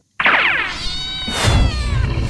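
A cartoon cat lets out a loud, close, drawn-out wailing meow and then a second strained cry while a dog pesters it. There is scuffling noise underneath and no speech.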